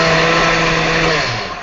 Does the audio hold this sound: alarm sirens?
no